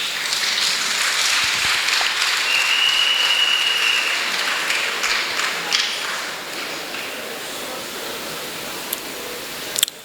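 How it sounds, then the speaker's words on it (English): A large audience at a district awards ceremony applauds loudly and steadily as a dense wash of claps, tapering slightly toward the end with a few isolated sharp claps. "big round of applause."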